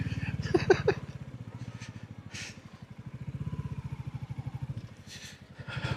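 A Royal Enfield Classic 350 motorcycle engine chugs steadily at low revs, rising and falling slightly as the bike rolls along, with a few clattering knocks early on.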